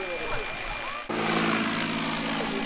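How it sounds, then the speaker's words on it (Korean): Small camera helicopter drone struggling in strong cliffside wind, a steady buzzing rotor whine under heavy wind rush, with a sudden shift partway through to a louder, denser drone tone. "소형 헬기는 이곳의 거센 바람을 견뎌내지 못했습니다."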